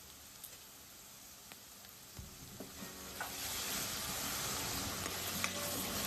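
Chicken with red chili powder, turmeric and garam masala sautés in a pan, a soft hiss that thickens into a fuller sizzle partway through, with occasional spoon taps and stirs, close and quiet, no talk.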